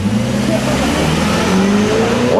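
Race cars at a hillclimb start, including an Audi RS6 Biturbo and a Pontiac Trans Am coupe, engines revving and droning steadily with rising pitch, loud and nearby, with crowd noise and an announcer talking over it.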